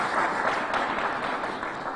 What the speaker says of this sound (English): So could we give a big round of applause to our town leader